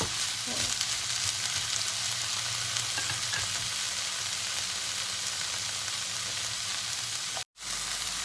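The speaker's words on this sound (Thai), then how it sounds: "อันนี้ก็ผัด ไม่ต้องนานนะคะ เพราะว่า ผักของเราสุกอยู่แล้วนะคะทุกคน" Vegetables stir-fry in a pan with a steady, close hiss of sizzling and faint scraping of stirring, continuous throughout with a brief drop near the end.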